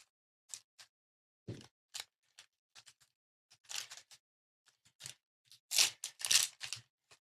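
Scissors snipping open sealed trading card packs during a card break, a series of sharp, brief cuts and crinkly crunches in irregular bursts, close and fairly quiet, with no talking.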